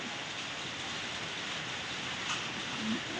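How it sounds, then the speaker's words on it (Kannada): Steady rain falls in a soft, even hiss, moderately close, with no voices. "ಇವಾಗ ಫುಲ್ಲು ಮಳೆ ಬರ್ತಾ ಇದೆ"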